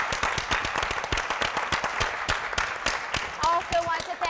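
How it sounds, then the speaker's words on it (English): Scattered hand claps from a small audience at a podcast or live show ring out in a quick, uneven patter. A voice starts talking near the end. "Can we give them a round of applause?"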